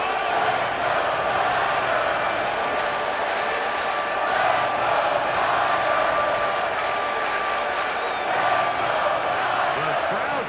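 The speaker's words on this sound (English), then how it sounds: "The crowd cranking it up another notch before third and long." Stadium crowd in the Madden 25 football video game, San Francisco 49ers game, roaring in a steady, sustained wash of cheering that swells slightly, with a commentator's voice over it.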